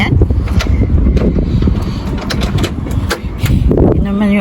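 Strong gusting wind buffets the microphone outdoors in hot, dusty Abu Dhabi, a loud continuous low rumble with bursts throughout, while someone talks and exclaims over it.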